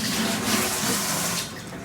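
Tap water runs steadily into a kitchen sink, a continuous close hiss and splash lasting the whole stretch and easing slightly toward the end, with no voices.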